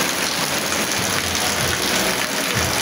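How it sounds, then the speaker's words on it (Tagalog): Heavy rain pounds steadily on and around a stranded bus in the Calbayog area, a dense, continuous hiss with low rumbling underneath, loud and unbroken throughout. "Lalong lumalakas ang ulan."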